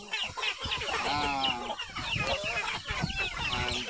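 A flock of about a hundred village chickens clucks and calls continuously nearby, with overlapping bursts of clucking and a few drawn-out calls, and no one talking.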